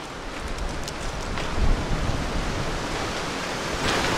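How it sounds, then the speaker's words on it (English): Broad, steady rushing noise like wind buffeting outdoors along the Enola Low Grade Trail in Lancaster, Pennsylvania, constant and fairly loud with slight gusts, and no voices. "It's a bit windy out here today too."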